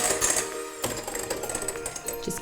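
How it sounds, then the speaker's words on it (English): An electric whisk beats egg whites toward soft peaks for a Black Forest gateau, giving a steady high-pitched mechanical whir. It runs continuously and closely, with a brief dip in the motor hum near the start. "I'm just going to whisk those until they reach soft peak."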